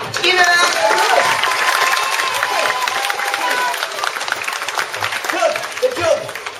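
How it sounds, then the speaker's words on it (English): Audience clapping and cheering for a juggler at a circus-themed kids holiday club, a lively burst of applause that starts loud and gradually thins out, with some voices mixed in. "Give him a round of applause."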